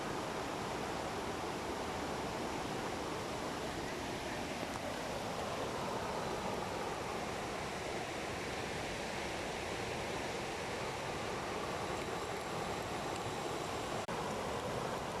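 A creek flows beside a market at Ob Poi in Ratchaburi, a constant broadband rushing of water that stays even and moderately loud throughout, with no voices.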